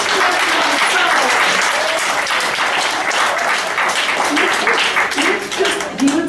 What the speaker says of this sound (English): I want to ask you all to give each other a round of applause